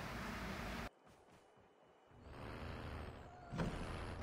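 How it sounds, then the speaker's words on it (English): A truck in Call of Duty Warzone gives a sharp hiss of air brakes, then its engine rumbles low and steady before a second burst of air near the end, all fairly quiet. "Let's take him down with the truck"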